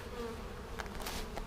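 Honey bees from spring packages hum around their hive, a steady close buzz with individual bees droning past now and then, no voices present.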